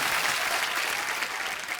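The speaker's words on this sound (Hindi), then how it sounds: "जोरदार तालियां आ जाए यार" Studio audience on The Kapil Sharma Show breaks into loud, sustained clapping, a dense wash of hands from many people that holds steady for the whole moment without talk.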